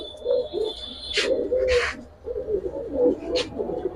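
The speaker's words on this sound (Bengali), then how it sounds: "দর্শক এখন একটা পেয়ার দেখাবো" A pair of Giribaj pigeons coo in low, rolling bursts close by, with a few brighter chirps from other birds breaking in at moments.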